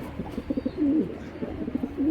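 A pair of foster homing pigeons coo in soft, throaty, repeated rolls, close by, with short pulsing bursts and a longer warble in between and no speech.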